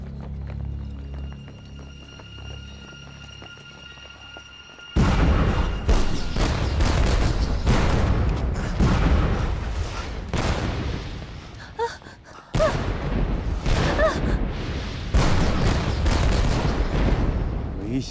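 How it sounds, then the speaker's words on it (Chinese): Cannon fire booms in a Chinese historical fantasy TV drama battle scene, a dense run of loud explosive blasts and rumbling impacts starting abruptly after a quieter music-like opening and continuing almost without pause. "没想到大炮如此厉害啊"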